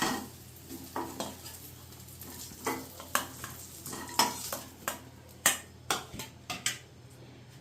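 Brinjal and pointed gourd frying in oil in a pan, a soft continuous sizzle broken by about a dozen sharp scraping knocks of a spatula as the pieces are stirred, fairly close and with no talking.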